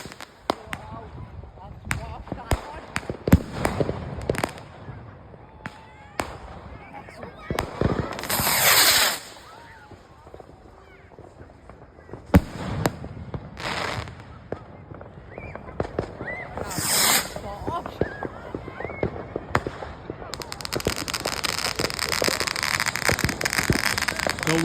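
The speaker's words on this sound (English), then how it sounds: "there's another rocket going up" Bonfire night fireworks and rockets go off outdoors with repeated sharp bangs, crackles and whooshing launches at irregular intervals. Some are close and loud, others farther off, and people talk intermittently in the background.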